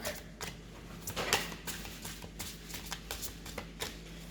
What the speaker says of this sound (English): shuffle the cards and start with cleaning the deck